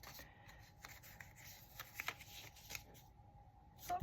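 Paper ephemera folded and tucked into a journal pocket on a Christmas document journal, soft close rustling and crinkling with small papery taps, quiet and alone.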